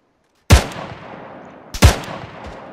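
Two loud, close gunshots in the Arma 3 video game, about 1.3 seconds apart, each a sharp crack with a decaying echo tail, with no speech over them.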